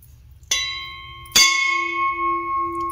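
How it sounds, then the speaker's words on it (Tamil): Two ringing strikes on an antique heavy brass uruli vessel with ribbed sides, each sounding a clear, bell-like metallic tone with sustained overtones that ring on and slowly fade, the second strike louder than the first. "சவுண்டை பாருங்க கோயில் மணி மாதிரி."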